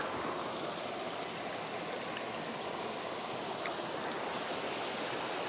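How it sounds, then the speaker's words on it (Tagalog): The Ilog Pinggo river in Bailen, Cavite, a shallow, clear, knee-deep stream under a bridge, rushes past in a steady, dense, broadband flow, constant and close, with no talking. "Ay, ito ang Ilog Pinggo."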